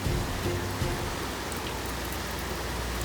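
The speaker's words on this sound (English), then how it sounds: "It started raining and the sun set, so it's super dark." Rain comes down at night outside a van, a dense, even hiss of drops with a faint low rumble and no voices.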